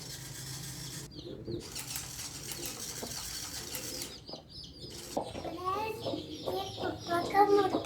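A rooster belonging to a household flock of chickens and pigeons clucks repeatedly in short, uneven bursts, close by, mixed with wing flapping and other bird sounds, all over a busy outdoor background.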